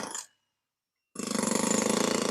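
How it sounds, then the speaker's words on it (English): A Hilti jackhammer runs at a Vermont pool job site, its steady, rapid pounding starting abruptly after a brief silence and continuing loud and rhythmic to the end. "Just the sound of the Hilti jackhammer going over there."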